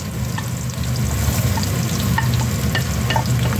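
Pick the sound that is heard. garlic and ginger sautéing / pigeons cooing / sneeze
garlic and ginger sautéing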